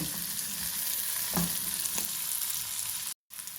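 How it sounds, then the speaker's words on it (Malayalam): Onions and garlic fry with turmeric in a pan, giving a steady close sizzle with a few soft stirring scrapes, then a brief cut to silence near the end. "അപ്പോൾ നമ്മുടെ ഉള്ളിയും വെളുത്തുള്ളിയും ഒക്കെ മൂത്ത് വന്നിട്ടുണ്ട്"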